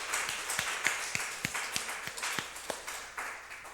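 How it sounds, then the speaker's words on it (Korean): A church congregation at a Sunday worship service claps in encouragement. A fairly sparse set of sharp, roughly regular claps comes from a modest group, moderately close, with no talking. "우리 앞날을 위해서 박수로 격려했으면 좋겠습니다."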